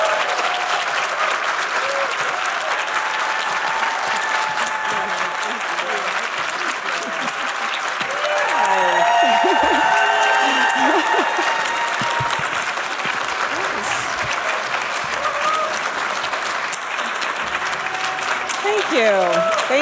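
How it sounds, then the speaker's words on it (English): Lecture audience applauds an invited speaker with sustained, even clapping that swells midway, while voices speak over it. "please give her the warmest round of applause, Dr. Claudine Gay."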